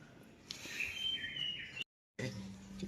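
A green leafbird (cucak hijau) chirps in a short bright phrase of tweets close by, then cuts off into silence before a low murmur resumes.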